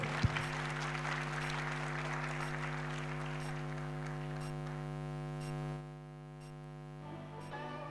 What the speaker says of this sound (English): Another round of applause, Professor Anisha Peters.